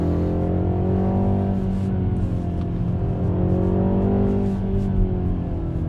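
A 2025 MINI Cooper S engine pulls hard and steadily, its note climbing and shifting as the car accelerates through the power band, loud and close from inside the cabin with no talk.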